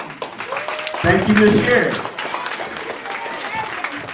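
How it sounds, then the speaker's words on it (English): A short burst of audience clapping rises abruptly and fades within about a second, mixed with people talking. "So that's when you stand up and give them applause."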